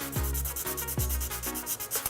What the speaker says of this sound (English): we're going to sand this down, these areas here.